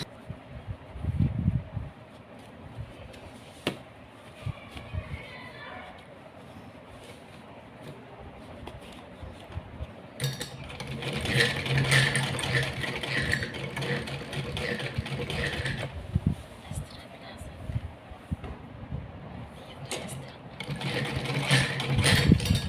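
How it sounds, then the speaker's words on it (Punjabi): A sewing machine stitches elastic into the waistband of palazzo pants, its motor humming in steady runs that grow louder and busier in the second half, with no talking. "ਸੱਜੇ ਹੱਥ ਨਾਲ ਆਪਾਂ ਆਪਣੀ ਮਸ਼ੀਨ ਚਲਾਵਾਂਗੇ"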